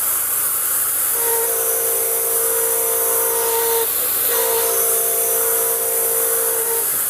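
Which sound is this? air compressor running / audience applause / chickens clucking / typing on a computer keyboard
air compressor running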